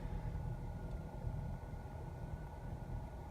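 A 2007 Nissan Qashqai 1.6 Acenta idles steadily with a low, even engine rumble and a faint hum, heard from close by with no talking.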